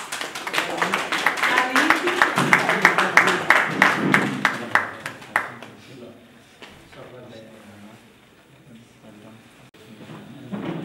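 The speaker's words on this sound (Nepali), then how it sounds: "थपडी" An audience at a cancer-prevention gathering in Nepal applauds a welcome, a roughly five-second burst of rhythmic, fairly close clapping that stops abruptly, leaving quiet room noise and faint movement.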